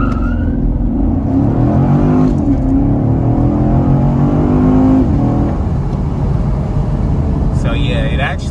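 A car engine revs and holds high with launch control engaged, the pitch climbing and sustaining as the pedal is floored, loud and close, with someone talking over the drone.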